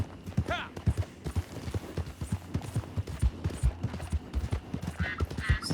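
Rhythmic hoofbeats of a galloping horse in Red Dead Online, steady clip-clop under someone talking over the gameplay, with a brief whinny near the start.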